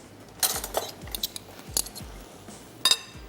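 Utensils clink against a bowl while shawarma salad is tossed, giving a scatter of sharp metallic ticks and taps at irregular intervals, close and fairly quiet, with soft low thumps between.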